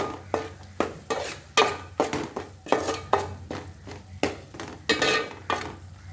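Spoon scraping and stirring masala paste with turmeric and matar paneer spice mix in a pan, steady repeated strokes about twice a second with a soft sizzle underneath, close and fairly loud.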